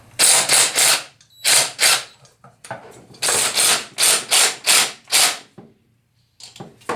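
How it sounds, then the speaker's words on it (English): A socket wrench ratchets on aircraft wheel nuts of a two-piece wheel after an impact gun starts them, giving loud, close bursts of ratcheting in quick groups separated by short pauses, with no talk. "I'm just using the torque of the impact gun to get it started, and we use a socket wrench for the rest of the way"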